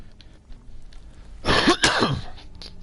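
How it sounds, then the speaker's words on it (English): A man clears his throat and coughs in two close harsh bursts, near and fairly loud against a quiet room with faint background noise before it. "God, I can't stop coughing."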